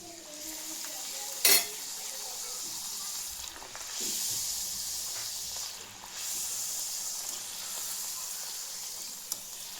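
Puris fry in hot oil, a steady bubbling sizzle that swells as each one drops into the pan, with an occasional clink of a utensil against the pan.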